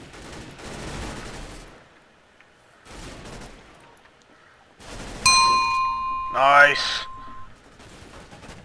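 Gunfire in CS:GO, with bursts of shots between quieter stretches and a brief ringing chime midway, while a player speaks briefly.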